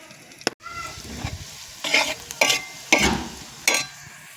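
Onions fry and sizzle in a pan with chili powder, coriander powder and garam masala over a village wood-fired stove, with several bursts of stirring scrapes over a steady low crackle, close and alone.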